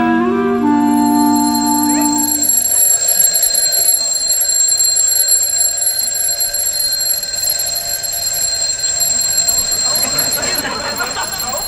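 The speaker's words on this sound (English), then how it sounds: "Your alarm's going." An alarm clock in a 1969 bedroom rings loudly and nonstop, a piercing steady bell right up close, with brief talk at the start.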